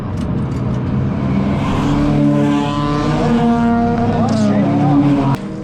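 A Lemons endurance race car that had broken down restarts and keeps running, its engine droning loud and close with steady harmonic tones that climb in pitch as it revs, then cuts off abruptly near the end.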